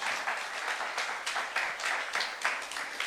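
Dense, steady applause from a church youth-service congregation fills the room, a continuous wash of many hands clapping at moderate distance with no speech over it.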